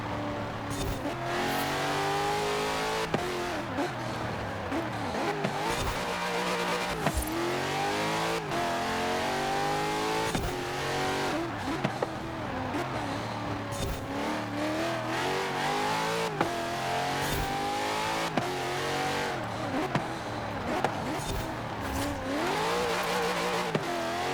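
A race car engine in the Forza Horizon 4 video game revs and shifts continuously through a lap, rising and falling in pitch with brief gear changes and a hint of tire squeal, loud and steady throughout.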